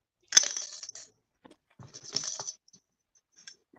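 A single coin rattles and clinks inside an upturned glass as it is shaken, with two short bursts of close, bright metallic jingling separated by a brief pause.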